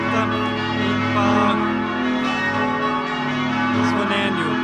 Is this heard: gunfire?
no